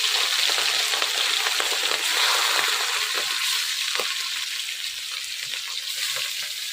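Oil sizzling loudly in a hot pan, a bright, crackling hiss with scattered pops, fading slightly toward the end.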